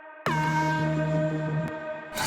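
A bright, harmonic synth tone with reverb in Ableton strikes suddenly and sustains loudly with a reverberant wash before cutting off, followed by a short noisy burst.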